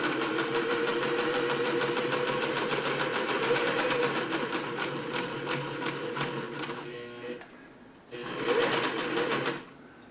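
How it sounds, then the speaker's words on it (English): A Singer 600E sewing machine stitches straight across a seam through four layers of denim jeans, a close, rapid mechanical clatter that runs steadily, stops briefly, then resumes in a shorter burst. "Gonna sew plain old jeans. 4 layers of it. Gonna go across that seam."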